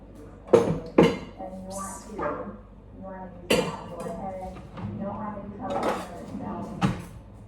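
A knife cuts through a block of partly frozen tofu on a cutting board, giving a few sharp knocks and clacks spaced irregularly, with a person talking throughout.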